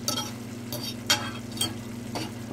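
Deer heart fries in butter with garlic and sweet onion, giving a steady close sizzle broken by a few louder stirring scrapes, with no talking.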